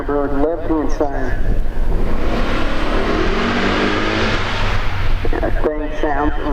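A Pontiac Firebird at a Summit Racing Midwest Drags event, its loud engine roaring and building broadband through the middle of the pass, with an announcer talking at the start and end.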